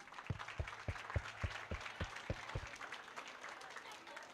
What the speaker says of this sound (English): give a big round of applause for each and everyone